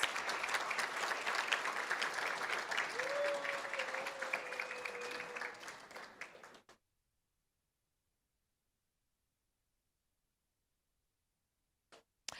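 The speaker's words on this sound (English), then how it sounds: "let's give them one more round of applause" A board meeting audience claps in a steady round of applause for several seconds, with a faint tone running through it, before it cuts off into silence and a few last faint claps.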